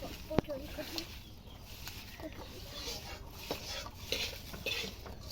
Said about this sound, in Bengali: এগুলো এবার আমরা ভালোভাবে মাখিয়ে নেব।